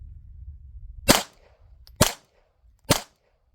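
Three shots from a suppressed .22 pistol firing subsonic rounds, each a sharp, muted crack about a second apart, close and clear against a quiet background with faint rumble before the first.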